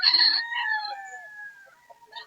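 A rooster crows loudly and close, drawing out its call as it fades, with scattered clucks from other chickens after it, among many fowl gathered at a Bocaue, Bulacan cockfighting gathering.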